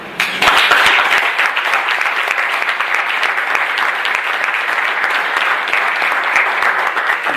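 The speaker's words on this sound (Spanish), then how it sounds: "para los cuales yo pido un aplauso" A crowd at a party political gathering applauds three members of the party's security commission with steady, full clapping that holds at an even level throughout.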